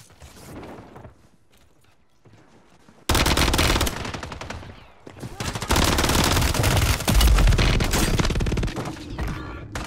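Rapid bursts of assault rifle fire from a shooter video game, loud and sustained across most of the clip after a quieter opening, with mechanical clatter between volleys.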